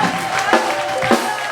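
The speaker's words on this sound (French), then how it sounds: "On les acclame très fort" A church congregation at a sermon cheers loudly, making a dense, sustained wash of crowd noise with a couple of louder swells.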